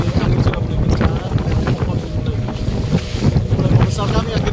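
Strong wind buffets a small fishing boat on open sea near Marore Island with rain about, a loud steady roar of gusts and microphone wind noise over churning water and waves, continuous throughout.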